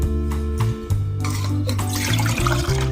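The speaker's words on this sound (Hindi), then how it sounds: "तो फिर पानी को डाल देंगे इस तरह से" Water pours and splashes into a metal pressure cooker holding taro roots for a few seconds, close and loud, under a steady hum of tonal background noise.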